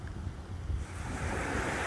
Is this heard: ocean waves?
yes